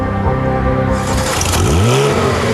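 A Porsche 911 GT3's 3.6-litre flat-six, rated 415 hp at 7600 rpm with an 8400 rpm redline, revs loudly up close, its pitch sweeping up and falling back.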